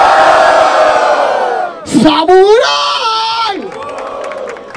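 A loud crowd at a Brazilian rap battle in Barueri roars and whoops, swelling into cheering and shouting, with a voice calling out a name over the noise.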